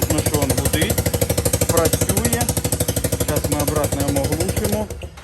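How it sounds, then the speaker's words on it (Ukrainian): A 2019 Piaggio scooter engine starts and runs in a workshop, loud and close, with a fast, steady pulsing putter that holds evenly before cutting off at the end. "Нажимаємо трошки тормоз і запуск."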